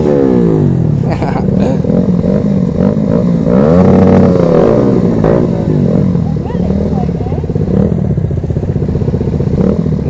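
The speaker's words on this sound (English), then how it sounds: "Here the bikes come." Motorcycles riding off together from a small bike meet, engines revving and rumbling continuously at close range for the whole stretch, with a rising surge of engine noise midway as bikes pull past.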